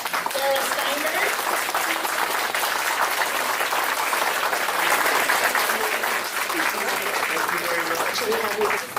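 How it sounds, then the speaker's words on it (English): An audience at a Sacramento Iu Mien community public meeting gives the mayor a warm, sustained round of applause, dense steady clapping that fills the room with a few voices mixed in. "let's give a big round of applause to our mayor, Darrell Steinberg."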